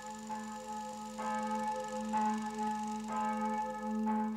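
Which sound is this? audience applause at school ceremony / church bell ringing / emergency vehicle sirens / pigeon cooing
church bell ringing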